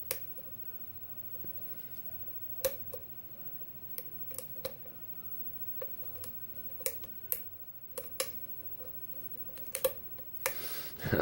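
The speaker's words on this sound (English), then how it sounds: "You could hear all that clicking and stuff in this lock" Pins clicking as a custom collaboration lock, spool-pinned and gutted, is picked by hand, sharp irregular ticks and snaps scattered over a quiet background, close up and fairly faint, with no talking.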